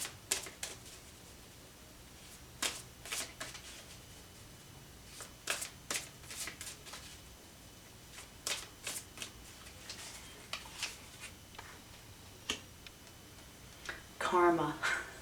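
Tarot cards are shuffled and handled in a quiet room, giving a scattered run of crisp riffling and slapping bursts with short pauses between them, close and fairly soft.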